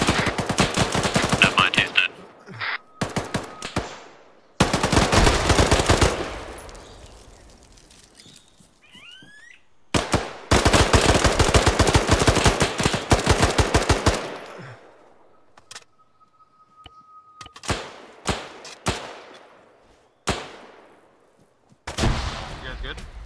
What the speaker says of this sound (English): There's a machine gun above me, I can't find him.